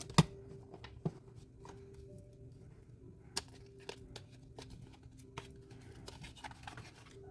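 Guidance cards riffled and shuffled by hand at close range, quiet papery patter with a few sharper snaps and taps scattered through a low room hum.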